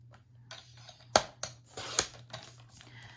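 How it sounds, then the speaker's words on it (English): Scissors cut a craft piece six inches long, giving a few crisp, close snips with sharp clicks spaced over a few seconds against quiet room hum. "we're going to go back to this piece here, and we're going to cut 6 inches."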